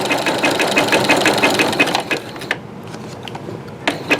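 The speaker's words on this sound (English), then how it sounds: "let's lift that presser foot in the back with a black button and see if this helps" A sewing machine stitches a rope bowl with a rapid, steady mechanical whir and clatter, then stops, leaving scattered clicks and knocks of handling; close and loud, no voices.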